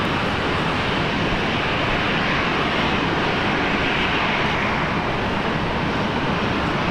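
Airliner rolling down the runway on takeoff at Brisbane Airport, a steady, loud broadband engine roar that holds evenly for the whole stretch with no talk over it.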